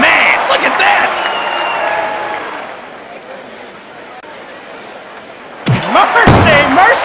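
Wrestling arena crowd in WWF Attitude on Dreamcast roars and cheers in a broad, sustained wash that fades mid-clip, then surges back with loud thuds and clatter from the ring.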